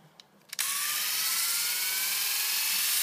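A Braun Silk Epil 7 SkinSpa epilator switches on after a couple of faint clicks and runs with a steady, close, high-pitched whirring buzz that holds level to the end, with no talking.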